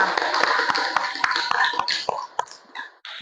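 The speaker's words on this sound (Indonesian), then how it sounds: "Kasih tepuk tangan dulu untuk kelompok pertama." A classroom of students claps for the first group, a fairly close, uneven patter of hands that gets sparse and fades into scattered final claps near the end.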